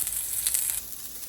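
Sockeye salmon skin sears in a hot pan with a continuous crackling sizzle, dense and close, easing slightly toward the end.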